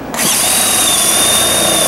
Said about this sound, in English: I take a drill and I'm going to see if I can do 1-inch holes